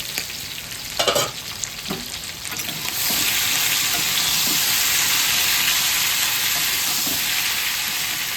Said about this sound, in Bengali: আবার একটু নাড়িয়ে দিচ্ছি ঢাকাটা খুলে।